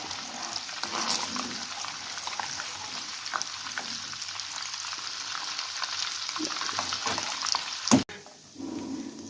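Butter heats in a pan while being made into ghee, giving a steady, even bubbling sizzle with soft crackles, then a sharp knock near the end before the frying continues.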